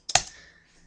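A single quick keystroke burst on a computer keyboard, a couple of sharp close clicks followed by a soft fading tail, alone with no voices.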